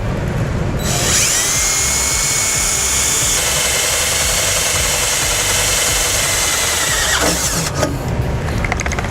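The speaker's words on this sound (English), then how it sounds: "We're going to take a 7/32 drill bit and drill a hole." A power drill with a 7/32 bit whines steadily at high pitch as it bores through metal on a Ford van, loud and close, running for several seconds before stopping.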